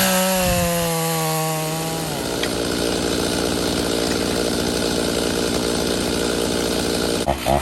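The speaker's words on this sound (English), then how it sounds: "I had to go get my dad's saw. And this MS310 is cutting good." Stihl MS310 chainsaw cutting into a big dead tree: the engine revs up from idle, then bogs into a loud, sustained cutting drone with rasping chain noise, close by and uninterrupted, with a brief clatter at the end.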